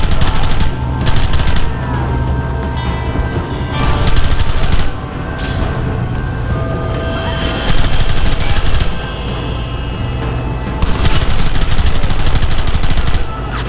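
Sustained gunfire from the Western game Red Dead Redemption crackles in dense volleys throughout, with shots overlapping into a steady fusillade and brief lulls between bursts.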